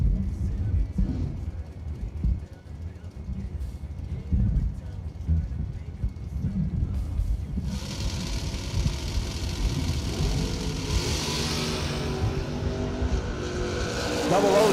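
A drag race between an S10 and a Mustang plays out with engine rumble building into a loud, rising roar of cars launching down the strip, heard from the track side with an announcer's voice earlier.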